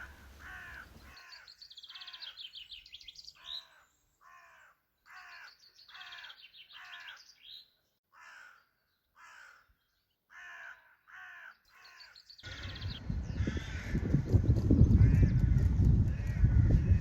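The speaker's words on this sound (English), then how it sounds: "Maybe you will hear those crows speaking to you too" Crows caw in a series of short, harsh calls spaced across the first twelve seconds, fairly close and clear, before a broad rumbling noise takes over at the end.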